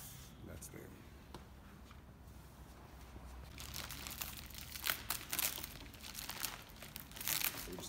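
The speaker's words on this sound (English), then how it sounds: "So just unwrap the rails, get them ready, so we can do our measurements." Roof rack rails being unwrapped from their packaging: plastic crinkles and tears close by, growing busier and louder in the second half, with low talk in the background.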